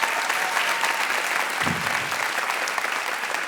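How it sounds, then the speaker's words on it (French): Steady audience applause after a French talk show segment, a dense even roar of many hands clapping that holds from start to finish with no voices over it. "on peut les applaudir"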